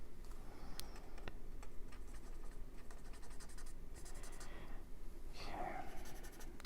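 A Stampin' Blend marker nib rubs and scratches faintly across paper while blending ink, with soft, close, intermittent strokes over quiet room noise.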